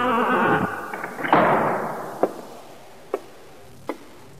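A door swings shut with a solid thunk, then a few sharp, faint knocks follow at spaced intervals in an otherwise quiet room.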